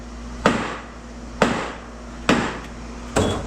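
A hammer strikes a solid part of a scrapped transformer four times in a slow, even rhythm, each blow a loud sharp metallic crack with a short ringing decay.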